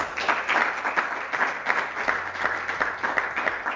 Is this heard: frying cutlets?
no